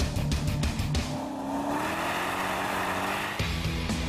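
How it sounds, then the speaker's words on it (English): A Corvette C6 V8 engine revs hard, its harmonic roar rising and sweeping, then settling into a steady growl before a sharp burst near the end. "that beguiling V8 sound. Whether shrieking at high revs or growling at the other end of the scale"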